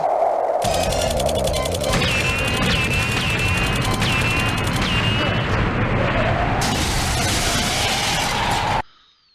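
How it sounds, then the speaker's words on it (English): Video game gunfire sounds during a mission to shoot enemies. A dense, loud barrage of shots and blasts continues for several seconds over droning game sound, then cuts off abruptly. "I'll shoot a couple guys"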